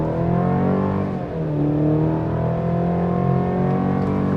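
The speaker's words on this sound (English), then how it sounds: "We'll try one off the line without a brake torque, off the line on the gas, boost." 2024 Chevy Colorado ZR2 pickup launching off the line on the gas without brake torque, its engine rising loudly and steadily through the revs with a brief dip as it shifts, heard from inside the cab with no one speaking.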